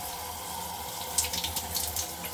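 Hot water runs from a thermostatic mixer shower valve, a steady hiss of flowing water with some splashing bursts toward the end, close and continuous.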